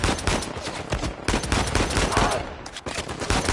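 Rapid bursts of automatic gunfire in the video game Uncharted 4: A Thief's End crackle continuously, loud and close, with dense overlapping shots throughout.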